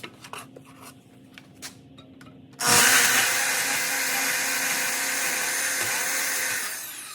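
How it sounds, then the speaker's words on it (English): A few soft knocks, then a bandsaw roars to life and cuts wood in one steady, loud run before winding down near the end. "And bandsaw again."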